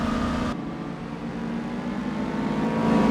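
Racing car engine in Gran Turismo 4 droning steadily and loud, a sustained whirring roar that holds its pitch for about three seconds after a brief change near the start, no talk over it.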